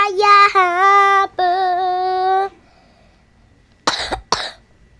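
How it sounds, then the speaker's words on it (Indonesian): A person gives two sharp, close coughs in quick succession, following a stretch of sustained voiced humming or singing and a brief quiet pause. "Batuk guys, lagi batuk."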